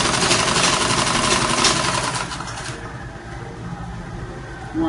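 A sewing machine runs steadily while stitching an Ankara fabric A-shape long skirt, a dense continuous mechanical whir that is loud for the first half, then drops to a softer, lighter hum.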